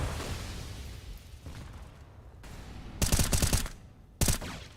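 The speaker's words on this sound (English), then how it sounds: "Keto with the AK." AK-47 fire in a Counter-Strike style competitive video game: two sharp bursts of rapid automatic shots, the first longer and the second brief, standing out over quieter game ambience.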